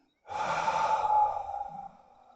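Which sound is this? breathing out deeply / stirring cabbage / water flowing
breathing out deeply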